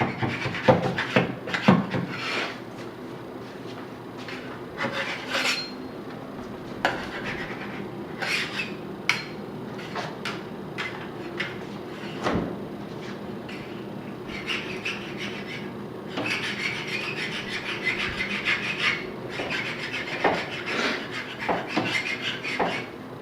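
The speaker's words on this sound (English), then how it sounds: "We got a scraper, and what he does is go around and get the edges and the corners, scrape up any residue or anything that's stuck down." A hand scraper works around the edges and corners of a floor in a rental property, lifting stuck-down residue with irregular close scratching and rasping strokes, some sharp and some longer, plus occasional knocks.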